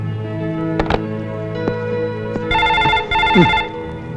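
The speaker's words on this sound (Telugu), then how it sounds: "ప్రొద్దున్నుంచి ఫోన్ మోగి మోగి విసుగు తెప్పిస్తుంది" A telephone rings in two loud electronic bursts after a few clicks and knocks, the tone pulsing steadily and close by.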